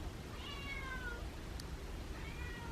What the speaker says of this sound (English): Yeah, she has a kitten cry.